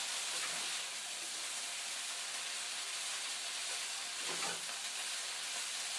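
Kale sautéing in a pan gives a steady, loud broadband sizzle and hiss throughout, with a brief burst of stirring or added moisture near the end and no talking.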